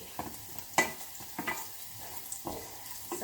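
Garlic and shallots stir-frying in a pan for pad Thai, a soft steady sizzle broken by several sharp clanks and scrapes of a utensil stirring against the pan, fairly quiet and with no voices.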